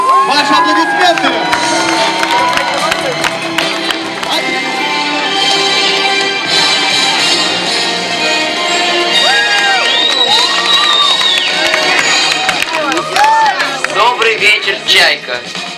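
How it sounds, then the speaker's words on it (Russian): Children at a summer camp squad presentation cheer and shout loudly over steady applause, voices whooping and rising in bursts across the whole stretch, with some talk mixed in. "Ваши аплодисменты."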